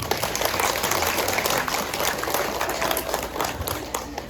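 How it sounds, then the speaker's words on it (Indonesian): Audience of parents at an Islamic kindergarten character-education event claps in a dense, continuous wash, fairly loud and even throughout, with no talk over it. "Tepuk tangan buat ibu."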